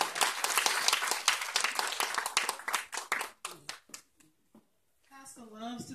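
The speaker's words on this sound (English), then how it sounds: "Come on, let's give her a hand clap as she comes." An audience at a precinct clergy council fellowship dinner clapping for an arriving councilwoman, a dense burst of applause that thins to a few scattered claps and fades out, followed by a person beginning to speak.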